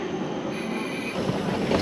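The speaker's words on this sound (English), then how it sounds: "this is my train." A train pulls into a station in the Italian Alps with a steady, close rumble of wheels and carriages, growing slightly louder over the brief stretch.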